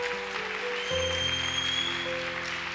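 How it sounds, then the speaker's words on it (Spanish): Congregation applauding in church, an even spread of clapping under sustained keyboard chords that shift partway through. "Creo que eso merece un mejor aplauso."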